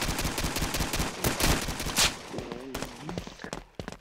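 Rapid bursts of gunfire from an Xbox shooter video game crackle in quick succession, loud and close, with denser volleys around the middle before a few scattered shots and faint game sounds at the end.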